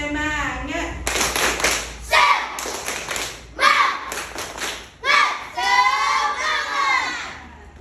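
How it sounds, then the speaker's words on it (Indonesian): A class of schoolchildren performs a rhythmic spirit clap, with loud bursts of clapping and thumping alternating with excited group shouts and chanting voices. "Ayo kita tepuk semangat dulu."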